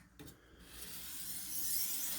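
Knife blade rubbed across a sharpening stone on a Ruixin Pro guided sharpener, heard as a soft, continuous rasping scrape that swells slightly, close and quiet with no talking.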